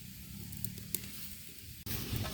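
Battered freshwater catfish fries in hot oil in a large wok in an Indonesian village kitchen, giving a steady close sizzle with small pops and a brief clatter partway through.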